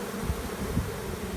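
Honeybees from a caught swarm, clustered on the cover of a hive box, give a soft, steady buzz with a couple of brief louder passes close by.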